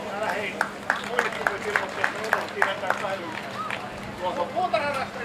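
Crowd at an outdoor tractor pulling competition clapping for the runner-up, a sparse run of distinct hand claps at a moderate pace, mixed with an announcer's voice and background chatter.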